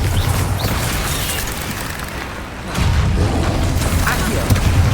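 Spell explosion from the Bombarda blasting charm in Hogwarts Legacy, a loud dense wall of booming, crashing game noise that dips briefly and then surges back with rumbling debris, continuous and close throughout.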